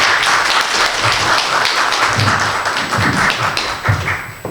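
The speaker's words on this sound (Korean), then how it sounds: "박수로 맞이하겠습니다" A seminar audience at an international church and mission conference welcomes a speaker with close, brisk clapping, dense taps that swell and fade slightly over a few seconds.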